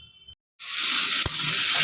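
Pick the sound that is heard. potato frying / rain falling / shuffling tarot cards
potato frying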